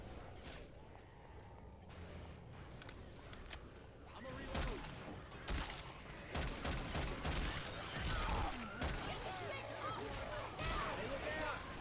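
Gunfire rattles in Left 4 Dead 2 while zombies are shot on the Dead Center campaign on Expert difficulty, with bursts thickening into heavy, continuous shooting under frequent player talk.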